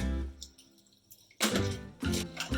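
A small splash of water is poured into a chutney, giving two short, close bursts of pouring and splashing between quiet moments.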